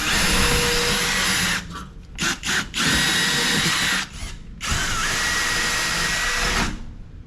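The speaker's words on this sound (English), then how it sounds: "Let's drill some holes now." A power drill whines loudly and close while drilling holes for a workshop desk, running in long bursts with a couple of short stops and restarts between them.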